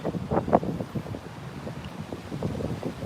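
Strong gusty wind buffets the microphone outdoors on a city street in Oakland, a steady low rumble with louder bursts early on and no speech.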